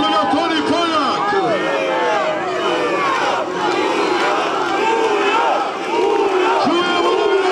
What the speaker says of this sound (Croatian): Čujemo navijače